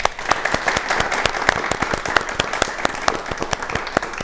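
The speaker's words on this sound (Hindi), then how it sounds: "हमारे कार्यक्रम की जो शुरुआत है जोरदार तालियों से हो जाए" An audience bursts into applause at the start of an event, dense steady clapping from many hands throughout, with no voices over it.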